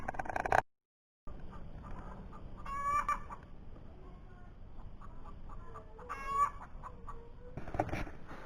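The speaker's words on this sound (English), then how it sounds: "And if you can't hear over Ellie, there's more chickens laying eggs." Hens cackling their loud egg songs after laying, in repeated bursts, with softer clucking between and a brief dropout near the start.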